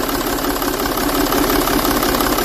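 A 3.0 HDI V6 diesel engine runs steadily during injector cleaning with an additive pump feeding fluid, its close, loud, even clatter held at raised revs for higher injector pressure and no talk over it.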